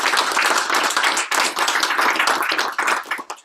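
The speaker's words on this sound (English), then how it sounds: "Thank you for clapping for all of us." An audience claps at a clean energy awards gathering, a crisp, busy patter of many hands that stays loud and even, dipping briefly once before resuming.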